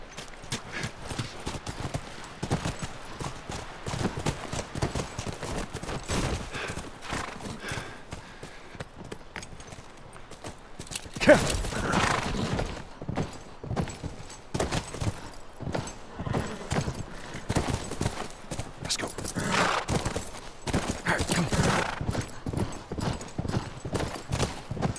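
Horse hooves in the video game The Last of Us Remastered clip-clop steadily on hard ground, a brisk continuous rhythm, with a brief rustling swell midway and faint ambient noise.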